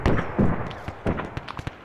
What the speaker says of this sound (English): There's somebody up the top of the hill keeps shooting you.